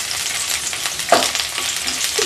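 Ginger and garlic sautéing in a pan for a coconut milk biryani, a continuous bright frying sizzle with a brief stirring scrape midway, close and steady.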